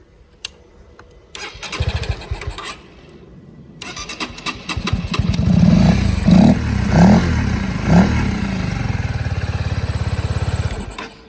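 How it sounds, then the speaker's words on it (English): A 2021 Honda CB125R motorcycle mid-rebuild, run without coolant, cranks in a couple of short bursts, then fires up and settles into a loud, steady, rapidly pulsing idle nearby. "the bike starts, and I won't run it long because I haven't yet put in the coolant"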